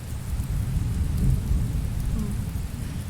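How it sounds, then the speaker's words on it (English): Thunder and rain in the video game Golden Treasure: The Great Green, a steady wash of rain with low rolling rumble throughout, fairly loud and without talk. "Oh, there was thunder."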